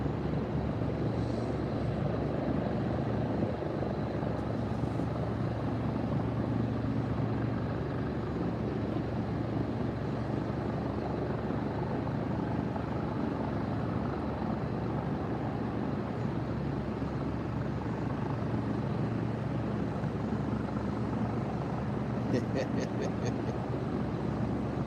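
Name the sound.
aircraft flying by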